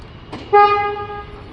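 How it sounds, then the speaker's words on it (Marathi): A Renault Duster gives a single short horn chirp as it locks, a clear tonal toot lasting about a second, preceded by a faint click. "लॉक केले गाडी अशा प्रकारे लॉक होईल"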